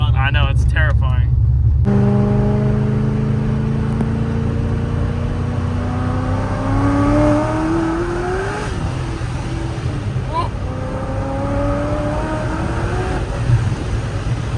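Corvette C6 Z06 engine revving at half throttle from inside the car, a loud rising roar with tones climbing and shifting, after a brief voice at the start.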